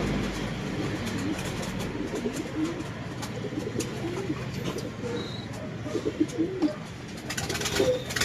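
Pigeons coo repeatedly from close by over a steady background hum, with soft throaty calls and occasional wing or movement noises.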